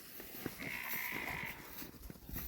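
Sheep and ewe lambs bleat in a farm pen, one clear, sustained bleat standing out close by over a background of shuffling and other animal noise.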